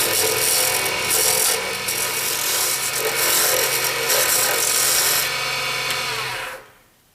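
Sanding a handmade button pen on a lathe: a steady, close abrasive rubbing hiss over a motor hum that runs continuously, then winds down and fades at the end.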